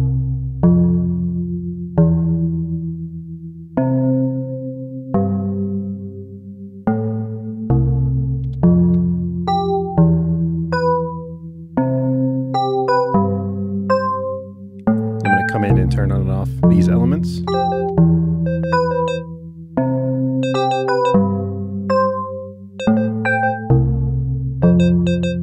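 An Elektron Digitone plays a clean synth pattern of sequenced, bell-like tonal notes, repeating in a steady rhythm with sustained chords underneath, loud and unaccompanied by voices.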